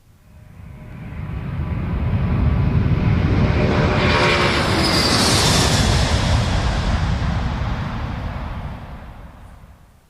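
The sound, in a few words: airplane noise at an airport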